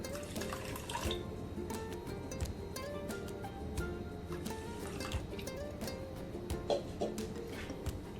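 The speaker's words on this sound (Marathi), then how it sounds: "आणि थोडंसं पाणी घालत आहे" Water pours and trickles steadily into a pot of thick homemade tomato sauce, with small drips and splashes near at hand and no talking.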